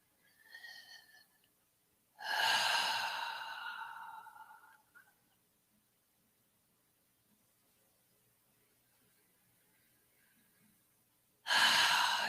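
A person takes slow, deep breaths as a relaxation exercise: one long, airy exhale of a few seconds, then quiet, then another deep breath begins, all close and breathy.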